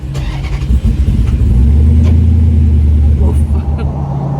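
A Jeep engine cranks and catches, then settles into a loud, low rumble up close, with a voice faintly heard at the start.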